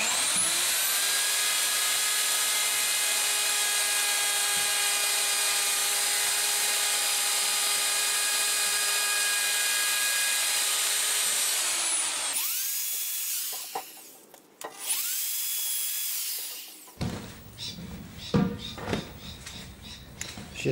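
A rotary tool fitted with a half-inch grinding stone shapes and rounds over the wooden body of a guitar under construction, whining steadily at high pitch for about twelve seconds. It is followed by shorter bursts and handling noises.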